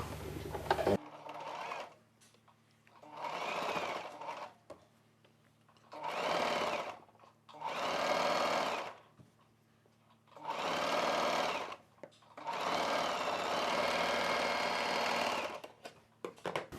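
A sewing machine stitches a side seam on a maxi dress in six separate bursts, each running one to three seconds with short quiet gaps between them, heard close and alone.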